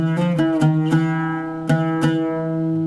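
A short Turkish melody in maqam sika, sustained harmonic notes with a few plucked accents rising and falling, played alone, close and clear.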